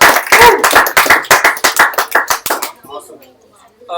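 An audience claps in a burst of applause at a live stream event, a dense rapid patter of hands for about two and a half seconds that fades out, followed by quiet.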